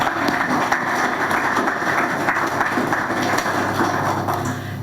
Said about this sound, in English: may we give a round of applause, please